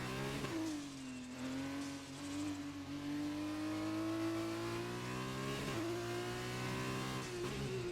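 An F2 race car in a racing video game screams through a sweeping right-hander on a qualifying lap at Brazil, its steady high engine drone climbing in pitch with a gear change near the end.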